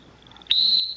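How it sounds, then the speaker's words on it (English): Handler's whistle to a retriever at a field-trial semi-final, with a faint pulsed series of short notes followed by one loud sustained high blast ending abruptly. "Couple whistles there."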